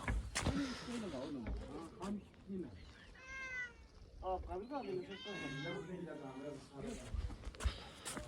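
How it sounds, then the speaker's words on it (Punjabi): A tomcat meows a few times up close, drawn-out wavering calls mixed in with people talking nearby. "ਬਿੱਲਾ"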